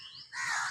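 A crow calls once with a short, harsh caw outdoors, moderately distant and fairly faint.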